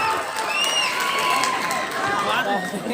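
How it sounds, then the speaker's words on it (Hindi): Applause and cheering from an audience at a village quiz contest in Saidpur after a correct answer, a dense steady crowd noise filling the whole moment. "जोरदार तालियां"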